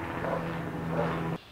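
Steady low drone of a news helicopter overhead during a police operation, fairly faint and continuous, cutting off abruptly near the end.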